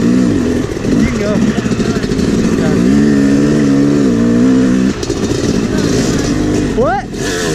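A motocross dirt bike engine revs and drones on a track, rising and falling in pitch as the throttle changes, loud and close, with a rider's voice talking over it.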